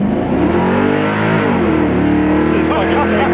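A restomod 1971 Chevy Nova accelerates hard, its V8-style engine note climbing and rising in pitch close by, with a brief shift, while people talk over the roaring exhaust.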